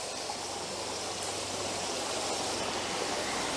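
Water pouring over a waterfall and pooling at the base of the falls, a steady broadband rush that holds even and continuous throughout, with no voices.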